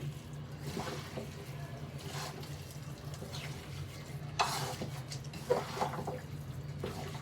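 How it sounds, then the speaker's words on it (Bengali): Food is squished and mixed by hand with mustard oil in a home kitchen, making soft, wet, squelching and stirring sounds that run steadily at low volume under faint background noise. "এখন আমি মেখে দিব হাত দিয়ে"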